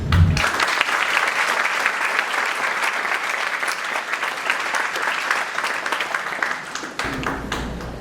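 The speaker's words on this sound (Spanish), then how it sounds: "el aplauso es porque están aquí presentes" Sustained audience applause at a panel event, dense and steady for several seconds before tapering near the end, with no voices over it.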